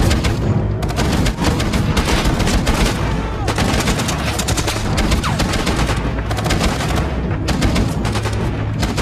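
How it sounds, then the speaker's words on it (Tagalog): Firefight gunfire between mercenaries and ISIS fighters at a compound: dense, continuous bursts of automatic shots and cracks, loud and relentless throughout, with voices briefly mixed into the chaos. "Nagkaroon ng maikli ngunit matinding putukan"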